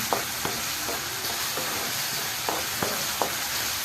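Egg masala of onion and tomato gets stirred and mashed in a hot pan, a soft continuous sizzle broken by regular scraping knocks of the spoon roughly every half second, fairly quiet and close.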